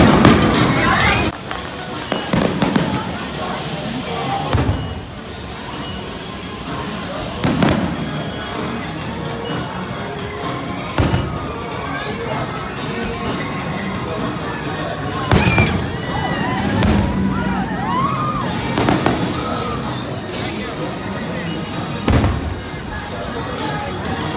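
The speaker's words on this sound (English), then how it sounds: "their fireworks are starting on the beach" Fireworks over a beach boom and crackle repeatedly at irregular intervals over constant amusement park crowd noise and voices, with sharp thuds standing out from the din.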